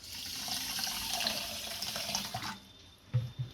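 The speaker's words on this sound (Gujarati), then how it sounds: "આમાં પાણી નાખીશું થોડું" Water pours steadily into a pan of sugar for moong dal halwa syrup for a couple of seconds, then stops, followed by a few soft knocks.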